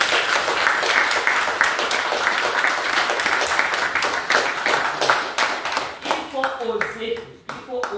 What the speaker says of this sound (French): nous devons une reconnaissance par vos acclamations